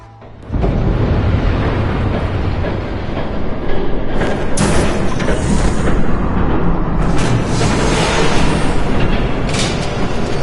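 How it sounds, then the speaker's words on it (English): A train rumbles in and roars past in the Batman Telltale game, a loud, sustained rushing clatter that builds after a quiet start and keeps pounding with heavy bursts. "There's a train coming."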